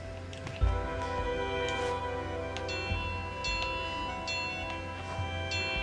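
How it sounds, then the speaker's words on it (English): A small bell chimes in the platformer Unravel, several bright, ringing strikes spaced apart over a soft game background. "look at that, a little bell"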